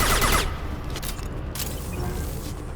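Gunfire crackles in a firefight in Mass Effect Legendary Edition, with a heavy burst at the start and scattered shots after it. The shots come over a steady wash of battle noise, with no speech.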